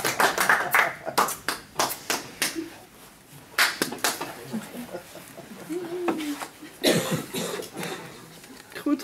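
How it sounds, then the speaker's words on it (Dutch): A few people clap in scattered bursts at a diploma ceremony, with coughs and talking between the claps, close and fairly quiet. "Jacqueline, wil jij ook een applaus?"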